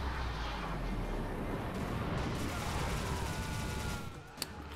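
Rapid gunfire in the Bulletstorm shooter game, a dense, loud burst of continuous shots with a roaring blast-like texture that eases off near the end, followed by one sharp crack.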